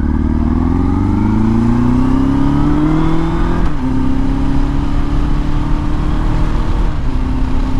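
A Hummer's engine drones loudly and continuously as it turns, its pitch rising slowly before settling, with a steady roar throughout and no talk.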